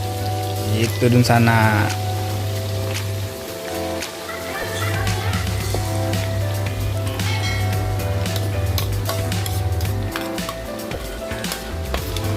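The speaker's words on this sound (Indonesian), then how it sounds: "selanjutnya kita goreng nih bumbunya yang sudah kita campur dengan ayam yang tadi" Chicken coated in kalasan spice paste frying on an electric stove, a steady crackling sizzle like rain under a constant low hum, with a brief spoken voice near the start.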